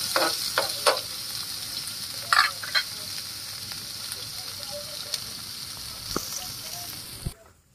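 Sautéing in a pan during preparation of tigi, a steady sizzle running throughout with a few sharper clicks and stirring knocks, fairly quiet and without speech.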